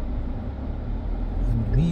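Congested road traffic in Barbados, a steady low rumble of idling and slowly moving vehicles close by, with a faint tonal engine note rising near the end and a voice talking over it.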